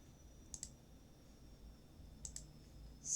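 A computer mouse clicks quietly on an upload button, two quick double-clicks spaced a couple of seconds apart against a faint room hum, close and soft.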